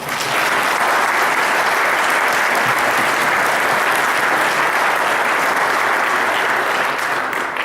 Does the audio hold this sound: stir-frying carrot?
no